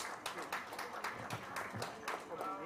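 An audience claps at a Rotary club charter night, a modest patter of hands rising and falling over a few seconds, with voices talking through it.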